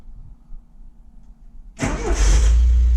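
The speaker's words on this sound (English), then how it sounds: "I'll start the car up. Hopefully it'll start." A Triumph TR7 car raised on axle stands cranks and fires up abruptly partway through, then settles into a loud, steady close-up engine rumble after a quiet start.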